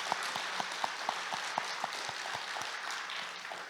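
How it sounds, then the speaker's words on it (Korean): Congregation applauding in a church during a special Lent dawn prayer service, a steady wash of clapping with scattered sharper claps standing out, fairly even and moderately loud throughout. "우리 한번 뜨겁게 감사의 마음을 담아서 박수하도록 하겠습니다"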